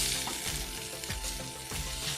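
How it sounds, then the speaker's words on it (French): A pollock fillet sizzles loudly in a frying pan where it is sticking, a dense close crackle with a few soft scraping thumps as a utensil works to turn it. "Maintenant, on va essayer de retourner le colin, parce qu'il est un petit peu collé."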